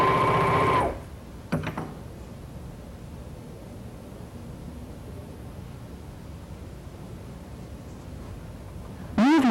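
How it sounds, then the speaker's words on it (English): A serger sewing machine runs steadily while serging one edge of silky woven fabric with differential feed set to normal, a continuous even whirring hum that lasts several seconds between brief sounds at the start and end. "serge one side of a piece of silky woven fabric"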